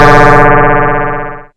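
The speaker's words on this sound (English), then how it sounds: "it's an FM noise generator" A harsh FM noise generator synth device in Ableton Live rings out as a loud, buzzing, siren-like tone for over a second, its bright upper edge cutting out early before the whole sound fades and stops.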